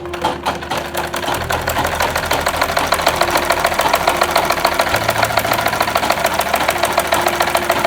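A sewing machine stitches a character onto a leather round for a lunch bag, giving a steady, continuous mechanical rattle and hum that holds throughout without pause, with no talking.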